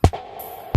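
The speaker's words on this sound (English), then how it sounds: "I created that caw, as you can see here, by basically taking one of the snare hits" A caw-like sound effect built from a processed snare hit in a mix of a song: a short, punchy burst, then a thin sustained tonal tail, closed by another sharp hit.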